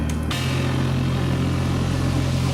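A BMW GT1 race car engine in a racing video game holds a steady, loud, buzzing drone. After a brief opening blip it runs on without voices.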